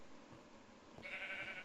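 A sheep bleats once in the video game Minecraft, a short nasal call arriving after a quiet stretch of low background ambience.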